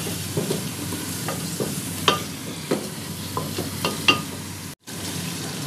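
Garlic, turmeric and spices fry in a pan for a Punjabi-style chicken chana curry, with soft sizzling under scattered scraping stir strokes and clinks, near and without speech, cut by a short dropout near the end.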